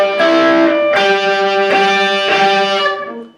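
Overdriven electric guitar plays part of the Black Crowes' Jealous Again solo with a string bend, three loud sustained note groups, no talk, decaying at the end.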